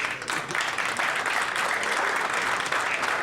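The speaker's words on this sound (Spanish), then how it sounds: "No era para que aplaudieran" An audience at a Rotary Club talk in Buenos Aires bursts into dense, steady applause, loud and continuous for the whole few seconds with no voice over it.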